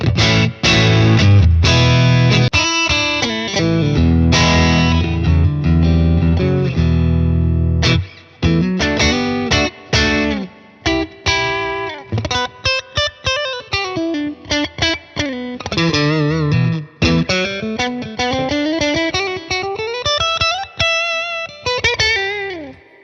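An EART NKC3 electric guitar played through the neck pickup on a distortion patch, loud and close, with sustained distorted chords followed by bending melodic lead lines and short pauses between phrases.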